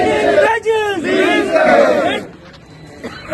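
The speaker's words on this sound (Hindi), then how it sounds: "इस वक्त मेरे पीछे देख रहे हैं एक बड़ी भीड़ जमा है।" A large crowd of protesting casual workers from a public health engineering department in Rajouri shouts slogans in unison, loud and close, with rhythmic chanted bursts before the noise fades to a quieter murmur.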